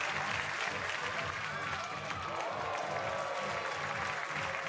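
Crowd at an outdoor athletics meet in Fribourg applauding a women's long jump: dense, steady clapping and cheering from the stands that fills the whole stretch without letup.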